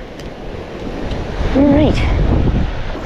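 Strong wind roars and buffets the microphone in a steady low rumble on a beach at Honeymoon Island, Florida, with surf behind it and a person briefly speaking.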